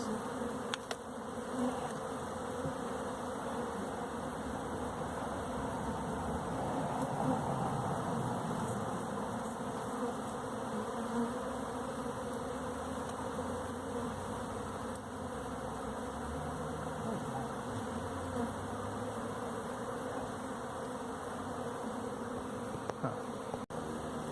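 A honey bee swarm drones during a cutout, a steady, dense buzzing that holds at an even level throughout, moderately faint and continuous, with no voices.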